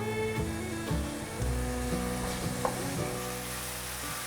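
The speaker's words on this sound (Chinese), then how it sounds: "把金针菇放进来，把金针菇炒至焦香。" Enoki mushrooms sizzle and crackle in plenty of hot oil in a wok, a steady loud frying hiss with occasional scraping stir strokes, close up and continuous with no voices.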